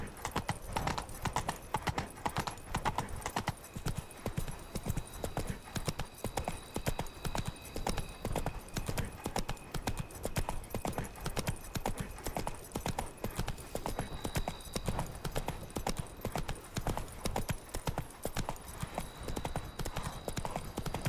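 Roach, a horse in The Witcher 3: Blood and Wine, trots steadily with a continuous, even clip-clop of hooves, close and loud throughout, with an occasional faint whinny.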